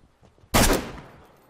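A single loud gunshot from DayZ, the survival video game, cracks suddenly and close, then its echo fades away over about a second.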